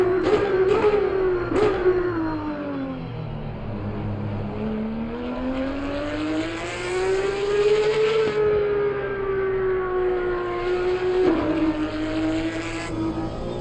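A race car engine in Assetto Corsa Competizione on the Nürburgring GP circuit drones loud and steady, its pitch rising and falling as the car accelerates, lifts off for corners and pulls again through repeated gear changes.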